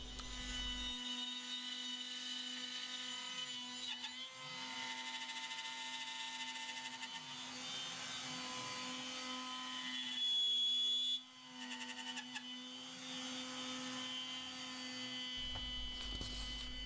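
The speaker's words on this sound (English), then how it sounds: "Now the body of the teapot is machined again." CNC wood-turning machine shaping the body of a wooden teapot: a constant loud mechanical whine with a strong steady hum, tones slowly sweeping as the cutter moves, no talk.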